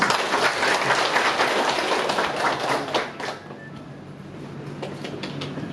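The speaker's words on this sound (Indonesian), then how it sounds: "Kita berikan tepuk tangan untuk Bu Vivi" Audience applause rings out for a woman being honoured at an agricultural export training session, a dense wash of clapping that is loud at first and then thins and fades into quieter room noise.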